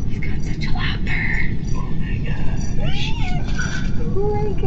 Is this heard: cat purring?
yes